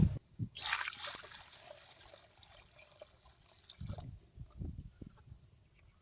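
Hot water splashes and trickles over goat tripe being cleaned, with a brief louder pour near the start followed by faint dribbling and occasional low thuds.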